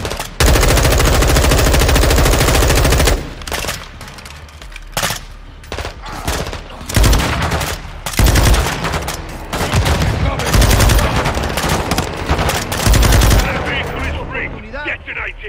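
Heavy, sustained gunfire from a Modern Warfare 2 prison-break battle, with loud overlapping bursts and fusillades that roll on almost without pause and briefly thin out between volleys.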